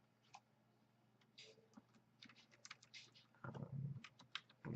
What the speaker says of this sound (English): what I'm basically doing is just typing up a code